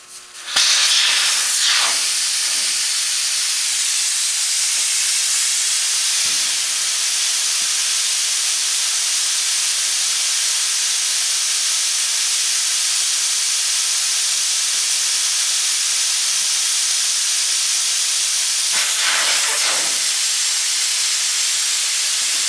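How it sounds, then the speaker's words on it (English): Air hisses steadily and loudly out of a gooseneck trailer tire as its valve stem is removed, a continuous close rush lasting the whole stretch with brief bursts near the start and end. "But first thing I got to do is take the valve stems off."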